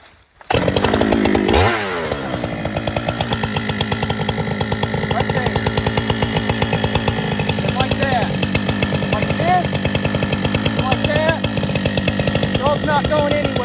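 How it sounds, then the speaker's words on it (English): A chainsaw starts up and bores into a white oak log being cut for veneer, a loud, close, continuous engine buzz with rapid chain chatter and shifting pitch as the saw labours in the wood. "I'm going to fire it back up and shove my saw back in there."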